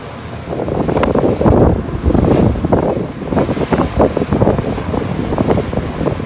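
Cruise boat sailing to Kusu Island in Singapore, with wind buffeting the microphone and waves washing and slapping against the hull in uneven surges, loud and close throughout.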